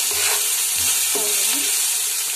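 Tomatoes with curry leaves and spices sizzle loudly in a pan, a continuous hiss broken by a few soft stirring scrapes, with no voices.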